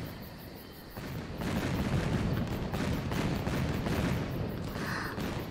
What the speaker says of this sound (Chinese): 这叫烟花，我让谷中弟子从人间带回的